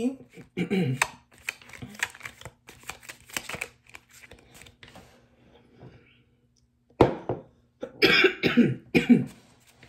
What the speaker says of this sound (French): j'ai tendance à tousser un peu pendant l'enregistrement